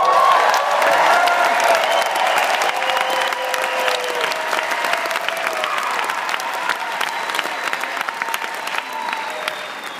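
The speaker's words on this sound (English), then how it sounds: "Layla Black, you guys give her a round of applause." An audience claps loudly and steadily for several seconds, a dense wash of hand claps that tapers slightly toward the end, with no voices standing out.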